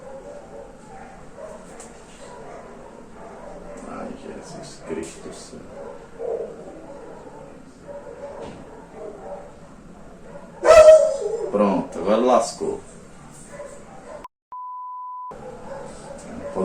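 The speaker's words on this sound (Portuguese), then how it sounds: "Não pode gravar uma aula sem esses cachorros lá." Dogs bark, yip and whimper in the background during a recorded math lesson, with a louder burst of barking partway through while someone talks over them.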